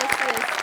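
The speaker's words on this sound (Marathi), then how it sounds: "त्याच्याकरता एकदा आपण टाळ्या वाजवूया." A studio audience at a Marathi comedy show bursts into applause, a dense, steady patter of many hands clapping throughout a brief moment.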